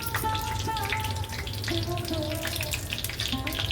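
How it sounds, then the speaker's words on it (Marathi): Cumin seeds and broken red chillies crackle and sizzle in hot oil for a tempering, a steady close hiss that runs throughout with faint tonal whines over it. "तेल तापत ठेवते, त्याच्यामध्ये जिरं घालते जरासं. त्याच्यात लाल मिरच्या टाकते"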